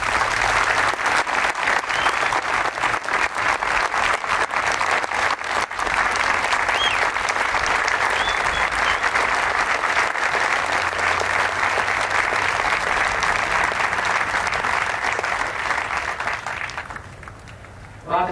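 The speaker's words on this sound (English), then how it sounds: "So please join me in giving them a round of applause." A large crowd applauds troops at a brigade combat team change of command ceremony outdoors. The clapping is dense and loud, sustained for about sixteen seconds before fading out near the end.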